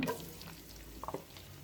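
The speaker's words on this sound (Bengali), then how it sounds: "পেঁয়াজগুলো আমি হালকা ব্রাউন কালার করে ভেজে নেব।" Onions frying in a pan for a Bangladeshi-style beef liver, brain and kidney curry with crushed black and green cardamom, a steady faint sizzle broken by a few soft stirring scrapes near the end.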